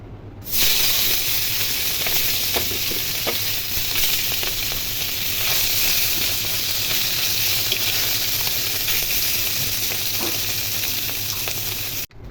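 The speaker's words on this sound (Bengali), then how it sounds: "তেল গরম হয়ে গেছে, এখন মাছগুলো ভেজে নিব।" Small tengra catfish frying in hot oil give off a steady, loud hissing sizzle that holds evenly for several seconds, close up, with faint pops and utensil touches and no talking.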